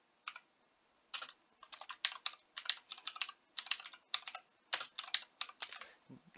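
Computer keyboard typing in rapid bursts of crisp clicking keystrokes, close and distinct, separated by short pauses across the stretch with no voices.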